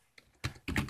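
A few quick keystrokes on a laptop keyboard while a Linux terminal command is typed on a Dell Latitude E6400, close and soft, in a short clatter of roughly three taps.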